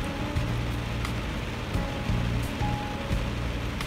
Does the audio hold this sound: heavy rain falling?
yes